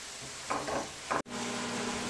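Shrimp scampi sauce stirring and reducing in a pan, a steady close sizzle with a couple of short scraping stirs, then a brief dropout before the bubbling simmer continues.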